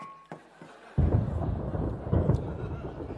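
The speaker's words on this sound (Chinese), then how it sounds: "打雷" Thunder in a stage comedy sketch: after a quiet opening with faint taps, a loud, deep rumbling crack breaks in suddenly and keeps rolling heavily to the end.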